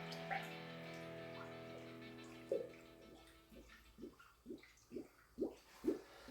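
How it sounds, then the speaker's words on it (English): A 12-volt electric pump runs on a battery and pushes pre-mixed 50/50 antifreeze coolant into a Camaro SS during a supercharger install. A faint steady whine gives way to rhythmic gurgling spurts of liquid. "This is pre-mixed 50-50 that I'm adding to that and that. Got a 12 volt battery on my lap here to run the pump."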